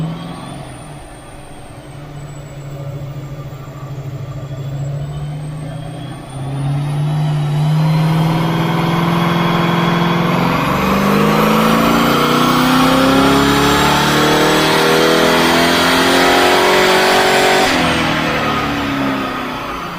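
Holden 355 stroker V8 on a dyno, revving through a full power run: the engine note climbs steadily in pitch and loudness for most of the stretch, then drops off sharply near the end, loud and close with no talk.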